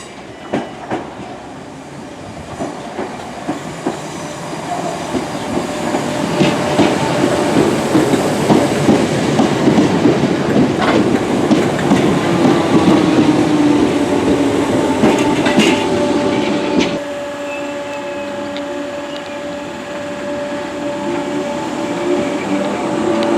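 A Merseyrail train runs through Birkenhead North station, rumbling louder as it rolls past with rhythmic wheel clatter and a rising whine, then easing into a steadier hum with a faint squeal.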